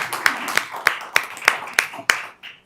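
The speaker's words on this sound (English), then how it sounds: "Applause." Scattered clapping at a school board meeting: about eight sharp, evenly spaced claps from a few people, close and distinct, ending near the two-second mark.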